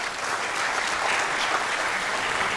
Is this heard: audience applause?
yes